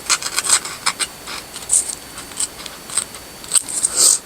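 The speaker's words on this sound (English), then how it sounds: "I cut that page a little bit." Scissors cut through a paper page in a quick series of crisp, close snips, some sharper and louder than others, with no one talking.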